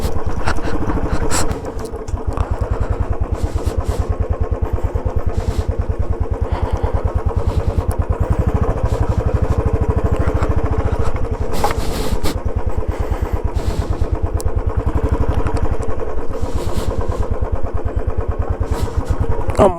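A motorcycle riding along a hill road from Manjoor to Kinnakorai near Ooty, its engine droning loud and steady throughout with a few gusty bursts of wind.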